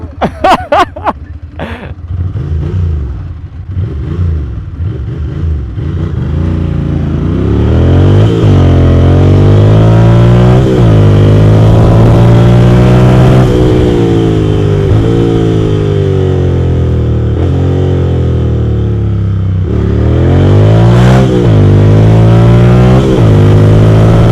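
A car engine revving hard on a night drive, with sharp exhaust pops and crackles at the start, then sustained loud revs that rise and fall in pitch, close and dominant.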